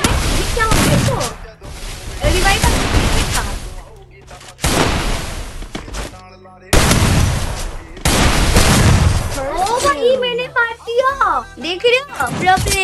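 Gunfire in a video game, loud bursts of repeated shots in quick succession with short pauses between volleys, near and dominant, and a voice talking over the later part.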